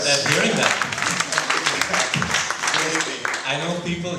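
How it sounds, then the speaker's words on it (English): An audience at a panel discussion claps briefly, a dense burst of applause that stays steady for a few seconds while a voice talks over it. "A big round of applause"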